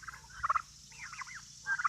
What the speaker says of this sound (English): All my turkeys are coming to say hi.